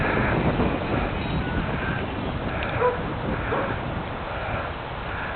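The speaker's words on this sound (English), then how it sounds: "Look at that wind." Strong, continuous gusty wind roaring over the microphone outdoors at an RC flying field where a Parkzone P-51 Mustang model plane is being flown, loud and unbroken throughout.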